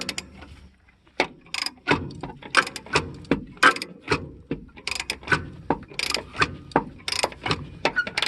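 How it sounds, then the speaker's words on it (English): A Snap-On 3/8 drive flex head ratchet with a deep well socket clicks in quick irregular bursts while working on a driver side shock of an E-series Ford van, close and crisp with no talk. "That's just a standard deep well snap-on socket in a 3/8 drive flex head snap-on ratchet."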